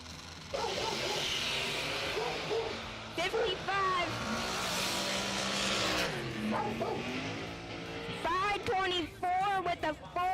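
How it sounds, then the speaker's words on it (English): A dragster runs down the strip at a bracket racing event, its broad engine roar swelling and fading while an announcer talks over it. "they're gonna let the dragster try again"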